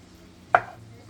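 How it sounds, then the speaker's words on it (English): A knife chops once through a block of cheese being cut into cubes, a single close, sharp cut in a quiet kitchen while butter sizzles faintly for a grilled cheese sandwich. "So while you're watching me cutting cheese"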